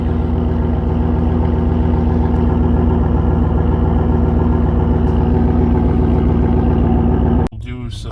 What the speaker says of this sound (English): we're at about 94 decibels and the idle has come down off of a cold start